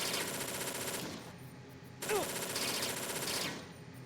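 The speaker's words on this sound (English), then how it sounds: "Now he's just gonna shoot at me forever" Enemy gunfire in Metal Gear Solid 2, two rapid machine-gun bursts of about a second and a half each, separated by a short gap, fairly faint and close.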